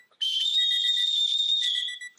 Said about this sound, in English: I blew the whistle, right? The quarter ended.